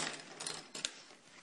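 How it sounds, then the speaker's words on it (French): Plastic bags of Lego pieces being torn open, a crinkly rustle with sharp crackling bursts and a small clatter of loose plastic parts, close by and with no talking. "Donc je vais d'abord ouvrir les sachets."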